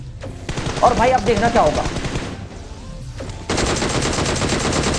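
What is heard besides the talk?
gunfire from M4 rifle in video game PUBG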